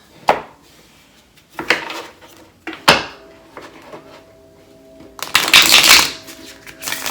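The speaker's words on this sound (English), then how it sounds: "I want to pull a Moonology card, of course." Moonology oracle cards are shuffled in several separate bursts of riffling and flapping, close and crisp with short quiet gaps between, the last flurry louder and longer.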